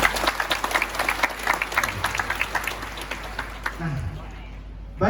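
A lecture hall audience at a university event applauds with brisk, dense clapping that gradually fades, and a voice starts speaking as it dies away.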